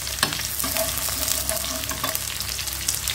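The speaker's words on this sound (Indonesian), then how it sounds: "Oke, kita tumis bumbunya ya, bawang putih dan bawang merah." Garlic and shallots sauté in a hot pan, giving a steady, close sizzle with occasional stirring clicks throughout.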